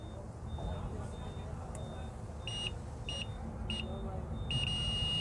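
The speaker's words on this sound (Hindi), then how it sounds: "ये बीप बज रहा है, मतलब ग्राउंड भी सही है।" A multimeter on continuity test gives several short, thin beeps while checking a ground connection on a truck doser system, spaced irregularly over a low background hum.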